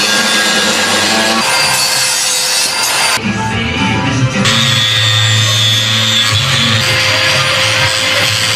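Steel plate being cut with a power tool while making a mold, a loud, continuous grinding whine with a brief shift in pitch partway through, close and unbroken.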